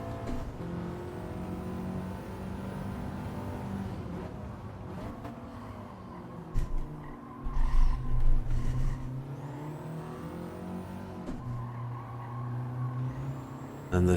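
Race car engine droning and shifting through corners in Gran Turismo, a steady loud motor tone with changing pitch, a brief heavier rumble midway, and no talk.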